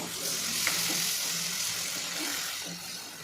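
Chopped tomato stirred in a frying pan for a potato curry, a soft continuous sizzle with light scraping of the spoon, fairly close and steady.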